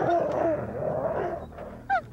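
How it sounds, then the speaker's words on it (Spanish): Dogs loosed outdoors in a forest, heard as a few whimpering and yelping calls over a low background, ending in one short, sharp bark-like cry. "Soltó a los perros y volvió a cerrar"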